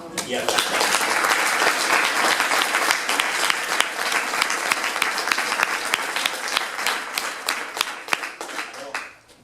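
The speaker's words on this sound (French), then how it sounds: "Mais là, dans le cadre de votre club, je pense que vous pouvez l'applaudir." Audience at a business club's 30th-anniversary event breaks into sustained, dense applause, full from the start and tapering off near the end.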